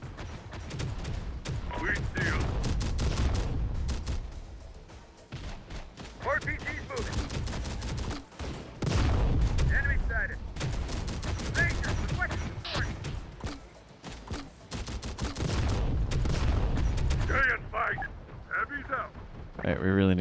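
Gunfire in Terminator: Dark Fate Defiance, with repeated bursts of shots and rattling volleys through a continuous battle noise, while voices call out over the fighting.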